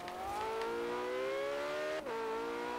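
Tuned Porsche GT2 fitted with an RWB body kit in Forza Horizon 3, its engine droning steadily and rising slightly in pitch, with a brief dip around a gear change near the end, loud and continuous with no talk.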